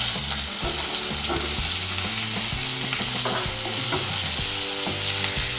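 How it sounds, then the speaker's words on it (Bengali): Chopped onion frying in a pan, a loud, dense, continuous sizzle with stirring scrapes underneath. Close and unbroken, with no voices. "পেঁয়াজ কুচিটাকে আমি লাল করে ভেজে নেব।"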